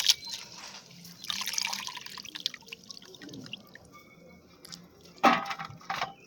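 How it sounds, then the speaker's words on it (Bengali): Chopped carrot and cabbage are washed in water with irregular splashes, drips and sloshing, quiet at first and then a louder burst of splashing near the end, with no speech. "গাজর আর পাতাকপিটা কিন্তু একসাথে মিশিয়ে দিলাম, মিশিয়ে ভালো করে ধুয়ে নিচ্ছি।"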